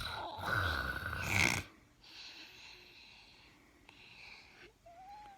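A baby snores in short, rough snorting breaths, loudest at the start and then quieter, with faint background noise and a brief squeak near the end.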